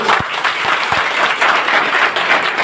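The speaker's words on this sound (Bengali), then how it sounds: "তো ভেস্টিজের প্রোডাক্টের জন্য একবার ছোট হাততালি হয়ে যায়।" Audience applause at a business presentation, dense steady clapping from a crowd, close and loud for the whole stretch.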